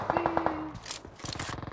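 Gunfire rattles in a PUBG Mobile squad match, a few quick bursts of rapid shots separated by short gaps, fairly close and moderately loud.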